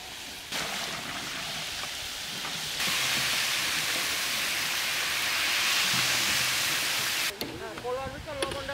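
Hot water poured into frying rice for chicken pulao, a broad rushing hiss that holds steady for several seconds, then a crackle of sizzling as the pour stops, with faint talk at the end.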